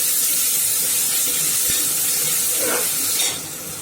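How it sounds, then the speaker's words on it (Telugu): Garam masala fries in a pan for tomato rice, a loud, close, hissing sizzle with one brief knock, easing slightly near the end as a stir passes through. "గరం మసాలా వేసుకోవాలి. వేసుకొని కాసేపు ఫ్రై చేసుకోవాలి."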